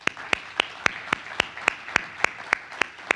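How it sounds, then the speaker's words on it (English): Audience at a conference panel on domestic violence applauding a sponsor, heard as a steady run of about a dozen evenly spaced claps, fairly faint and clear. "please give them a round of applause"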